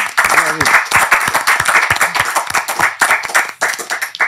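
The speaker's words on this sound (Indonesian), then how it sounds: "tepuk tangan buat" Audience applause breaks out at a talk show, dense and continuous, with a voice speaking briefly over the start of the clapping.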